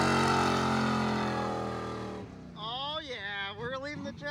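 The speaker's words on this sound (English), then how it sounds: "Getting some burnouts." A car doing burnouts at a trailer burnout event, engine screaming at sustained high revs for about two seconds, then dropping away as a shifting, wavering engine note continues loud and close.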